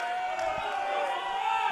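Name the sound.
crowd cheering for lifter Harvey at powerlifting meet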